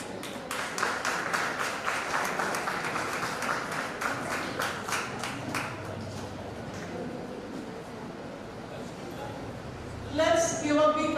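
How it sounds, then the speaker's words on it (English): An audience at a national seminar claps for several seconds, a dense patter that slowly fades before a voice begins speaking over the hall. "Let's give a big round of applause to our distinguished dignitaries."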